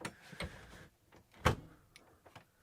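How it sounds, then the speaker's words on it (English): Sliding door of a 2004 Toyota Grand Hiace camper van slides and shuts close by, with a rolling rumble building to one sharp latching thud, then a few faint clicks, and no talk. "Let's go inside now and make sure we close the door."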